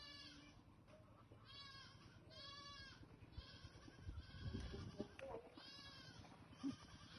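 A group of goats bleating repeatedly, several wavering, nasal calls overlapping at moderate distance over a steady background rumble, with a few brief shuffling noises near the end.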